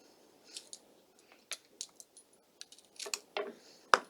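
Close, sparse snips and crisp clicks come from trimming flower stems for a Valentine's bouquet, scattered irregularly over a quiet background with a sharper snap near the end.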